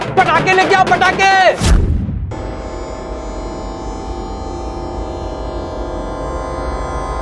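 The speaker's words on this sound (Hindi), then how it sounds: "अरे अरे गणेश, पटाखे लेके आओ, पटाखे।" A firecracker goes off with a single sharp blast right after people talk, and a steady hum lingers for several seconds afterward.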